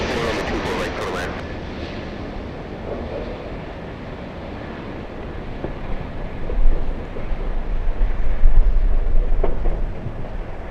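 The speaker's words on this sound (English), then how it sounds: "The wind is picking up again." Wind buffets the microphone at a Los Angeles airport plane-spotting spot, a steady roaring rumble that swells and gusts louder toward the end, with low drones of distant activity underneath.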